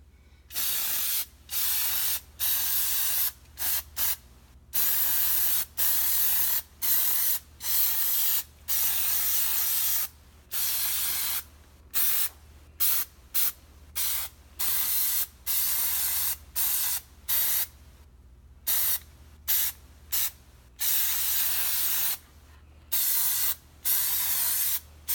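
Black Plastidip is sprayed from an aerosol can onto Corvette parts, likely the front grill: repeated short, close hissing bursts with brief pauses between them.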